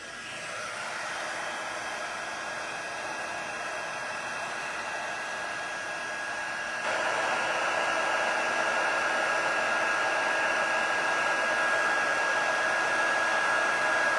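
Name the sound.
heat embossing tool blowing hot air on cardstock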